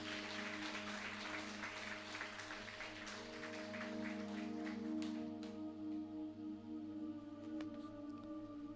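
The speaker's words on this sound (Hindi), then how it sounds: "प्रभु को जोरदार तालियों से धन्यवाद दें।" Congregation claps in thanks during a Sunday church service, steady dense applause over a sustained organ or keyboard drone with humming tones, the clapping thinning out midway while the held chords continue underneath.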